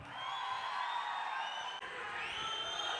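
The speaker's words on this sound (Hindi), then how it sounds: "जोरदार तालियां।" A large stage-event audience in Hindi-language surroundings cheers and applauds for Akshay Kumar, a dense continuous roar of clapping and whoops filling the space at steady loudness, with a brief dip near the middle.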